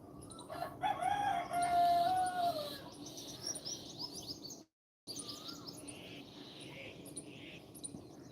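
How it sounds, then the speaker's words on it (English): Birdsong plays in the background: a rooster crows clearly near the start, while smaller birds chirp and tweet on and off over a steady outdoor hum, with a brief drop to silence partway through. "I'm letting you listen to the background noise. The sounds of birds"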